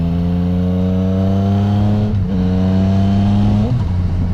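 A 2016 Yamaha MT-09 Tracer sport touring motorcycle engine idles loud and close with a deep steady hum, briefly blipped twice as the throttle is revved.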